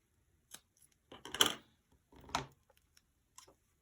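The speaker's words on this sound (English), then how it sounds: "all I need to do is cut off a piece of tape" A piece of tape is cut off during paper crafting: a few short ripping and snipping bursts with small clicks between them, close and fairly clear, and no talk.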